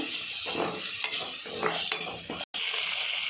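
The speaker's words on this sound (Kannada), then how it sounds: "ಬೇಯಿಸ್ಕೊಂಡಿರುವಂಥ ಬಟಾಣಿ ಸ್ವಲ್ಪ ಹಾಕ್ತಾಯಿದ್ದೀನಿ ರುಚಿಗೆ ತಕ್ಕಷ್ಟು ಉಪ್ಪು ಇದಿಷ್ಟನ್ನು ಸ್ವಲ್ಪ ಫ್ರೈ ಮಾಡ್ಕೋಬೇಕು" Boiled green peas with salt sizzle steadily in a hot pan, with a few scraping stir strokes and brief clinks of a utensil against the metal, close and continuous apart from one momentary break.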